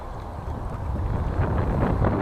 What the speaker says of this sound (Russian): на берегу ветрище